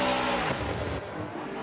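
A race car in Forza Motorsport 7 launches from the start line with a loud, rising engine roar and brief tire noise, the revving fading after about a second.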